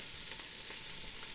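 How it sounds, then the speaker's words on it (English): Vegetables seasoned with salt and pepper sizzle in a pot, a brief steady hiss at low volume with no talk. "Going to add a little salt and pepper to get the vegetables sweating."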